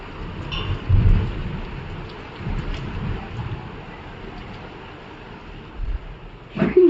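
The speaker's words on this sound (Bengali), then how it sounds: "খুব সুন্দর বাইরে বৃষ্টি হচ্ছে" Steady heavy rain pours down with low rumbles of thunder rolling underneath, swelling around the start and again sharply near the end.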